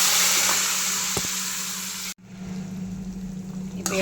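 Liquid poured into a hot pan of cooking bottle gourd kottu, a steady sizzling hiss that cuts off sharply partway through, then a quieter bubbling simmer.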